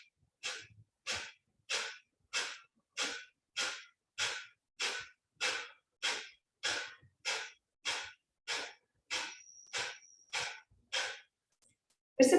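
Kapalabhati yoga breathing, a steady run of about sixteen sharp, forceful nasal exhalations at an even, quick rhythm, close and clear with near silence between them.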